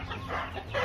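Chicks squabble and fight with short, overlapping clucking chirps, close and moderately loud, in a brief burst.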